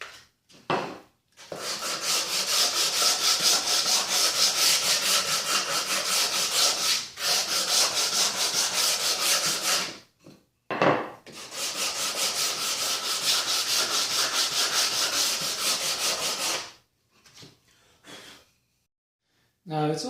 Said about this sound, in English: round over these sharp edges just with some 100 grit sandpaper and a block